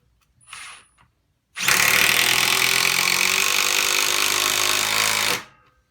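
A Milwaukee Fuel 3/8-inch impact wrench, set to speed 3, drives a fine-threaded lag bolt in one loud, steady, close hammering burst lasting about four seconds, with a brief short rattle just before it starts.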